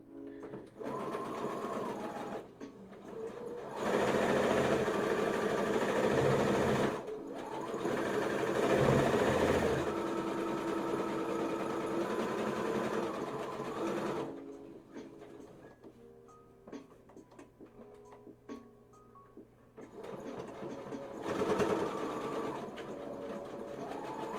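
A sewing machine stitches a spell bag in several long, loud runs, with shorter bursts and handling clicks in the gaps.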